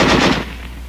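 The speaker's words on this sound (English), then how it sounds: "Weapons giving automatic fire will fire continuously as long as pressure is applied to the trigger" Automatic weapon firing a short, rapid burst of shots for under half a second, loud and close, then the report fading out.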